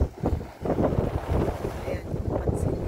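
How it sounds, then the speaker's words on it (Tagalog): Strong storm wind buffets the microphone beside a rough sea in Rovinj, Croatia, with waves crashing in a dense, roaring rumble under the gusts. "sobrang hangin at sobrang magaslaw ng dagat. So humahampas yung mga alon."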